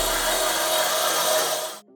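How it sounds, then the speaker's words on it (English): Small wire wheel on a 1/4 inch impact tool grinding against an old car dashboard, a harsh, loud, continuous scratchy whir lasting under two seconds before cutting off abruptly. "So my plan is to use this little wire wheel here."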